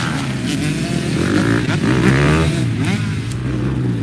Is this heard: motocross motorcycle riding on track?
yes